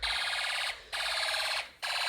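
Fire alarm horn sounding during a test of a fire and smoke alarm system, loud piercing pulsed blasts in a repeating on-off pattern, close and alone.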